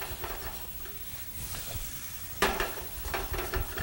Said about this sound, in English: We're still tossing or stirring, whichever one is easiest.